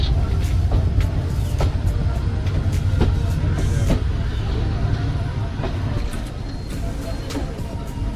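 The Netaji Express from Howrah to Kalka pulls into Kanpur station with a loud, continuous low rumble and scattered clanks, and voices talk over it.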